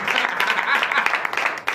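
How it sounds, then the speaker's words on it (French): Church congregation clapping at a night deliverance service in Comè, Benin, a dense patter of applause close by with voices mixed in throughout. "Donner l'acclamation à cette dame."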